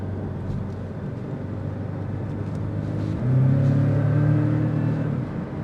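Porsche 718 Cayman Styling Edition with a 300-horsepower turbocharged four-cylinder in Sport Plus mode cruising on the interstate, a steady loud engine drone and road rumble with a deeper engine note swelling midway.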